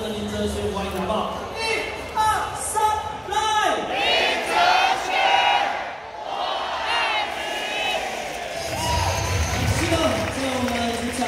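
Loud crowd noise with cheering and clapping fills a baseball stadium during an MVP ceremony honoring the Fubon Guardians' Lin Che-hsuan, a sustained roar with voices shouting over it throughout.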